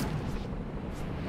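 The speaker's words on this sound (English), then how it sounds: "Oh, that explosion looked bad." A deep, rumbling explosion in the video game Spider-Man: Miles Morales, a loud, continuous low roar filling the short moment without any talk.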